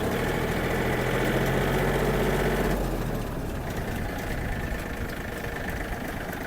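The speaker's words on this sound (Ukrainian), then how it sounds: "Давайте трішки додавлю обертів." A Yanmar US-324 mini tractor engine runs steadily nearby, its loud drone rising in pitch and shifting in tone partway through as the throttle is opened up.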